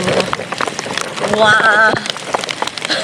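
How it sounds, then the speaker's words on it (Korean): Hail falling outdoors in May during gold panning, heard as a dense, continuous patter of hard pellets striking surfaces nearby. A person exclaims briefly over the clatter. "지금 5월에 우박이 내리고 있고, 저도 우박을 태어나서 처음 맞아봅니다."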